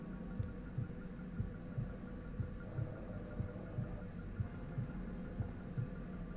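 A heartbeat sound effect in the video game Far Cry 5 gives a steady, soft, low double thump repeating about every half second under a continuous hum.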